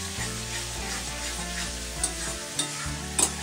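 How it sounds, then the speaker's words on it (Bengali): Ground black pepper and spice masala for an egg curry are stirred and fried in a pan, giving a steady sizzle with scraping strokes and a few sharper clinks near the end. "দিয়ে এবার সুন্দর করে মশলাটাকে কষিয়ে নেব।"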